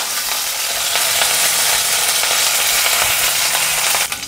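Curry leaves sizzle and crackle in hot oil while a South Indian dangar vegetable dish is cooked, a loud, steady frying hiss with a few sharper pops, alone with no voices.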